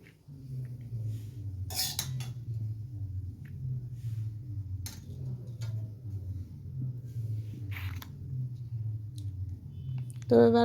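Veg chow mein is served onto plates with utensils that clink against the dishes a few times, in short sharp taps spread across the clip over a steady low hum and faint murmuring.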